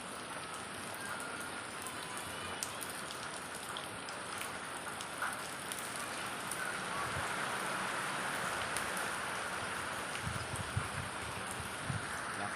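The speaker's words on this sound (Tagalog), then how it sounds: "Lakas, grabe ulan." Heavy typhoon rain pours down in a dense, constant hiss with occasional louder drips and spatters nearby.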